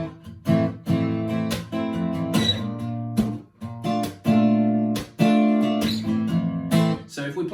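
An acoustic guitar plays a major 7 chord, strummed in a repeating rhythm of sharp attacks with ringing sustained notes between them, close and clear with no talking.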